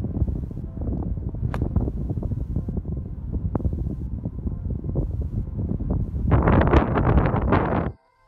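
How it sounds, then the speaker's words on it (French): Strong storm wind on a golf course buffets the microphone in a steady, loud roar for about eight seconds, swelling into harsher gusts near the end before cutting off abruptly. "j'ai un gros vent contre"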